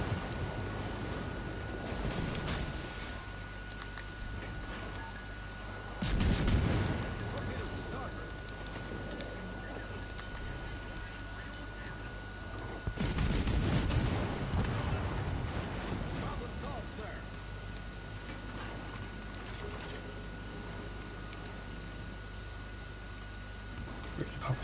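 Battleship main guns firing in World of Warships, two heavy booming salvos several seconds apart over a constant low engine rumble, with someone talking throughout.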